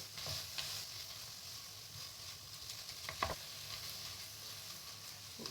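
Coconut being mixed into a sweet mawa mixture in a pan, a faint soft sizzle and occasional light scraping strokes, quiet and close with no voices.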